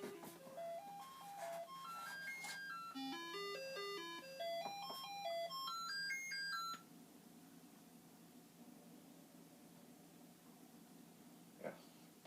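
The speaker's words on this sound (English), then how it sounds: "the SID chip rumbles away" A Commodore 64's SID sound chip plays a bright tune of stepped beeping tones that climb and fall in quick arpeggio runs for several seconds, then stop and leave faint room hiss and a small click.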